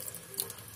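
Tap water running from a faucet into a sink while a soft rock from camp is washed, a steady close splashing stream over a brief moment.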